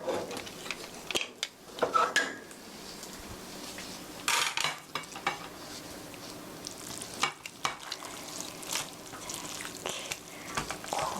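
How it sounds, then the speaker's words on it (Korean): Spaghetti in tomato sauce is stirred in a pan, with clinking utensil scrapes against the metal and a soft sizzle in the background, arriving in several uneven bursts close by. "고루 섞어주시고요."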